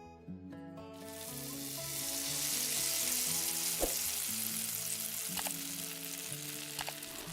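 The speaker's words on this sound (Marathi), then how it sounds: "हा कांदा छान सोनेरी आणि हलका कुरकुरीत होईपर्यंत आपण फ्राय करून घेणार आहोत" Sliced onion fries in hot oil in a kadai for prawn dum biryani, a loud, constant sizzle that swells and holds, with occasional stirring knocks over soft background music.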